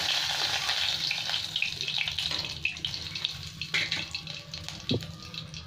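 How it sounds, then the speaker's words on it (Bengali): Nigella seeds dropped into hot oil left from frying fish for a Bengali tomato fish curry, giving a steady bright sizzle and crackle throughout with a few clinks of utensils near the end. "এর তেলে কালো জিরে দিয়ে দিচ্ছি।"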